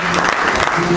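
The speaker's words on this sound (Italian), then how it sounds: "ancora un applauso per loro." Loud, dense audience applause after a folk band performance, sustained clapping close and full for the whole moment, with a low hum of crowd noise beneath.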